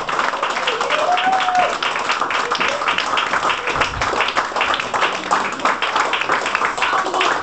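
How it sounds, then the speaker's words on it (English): A comedy club crowd claps continuously and densely, with cheers and shouts mixed in throughout. "Ladies and gentlemen, big round of applause, Hannah George!"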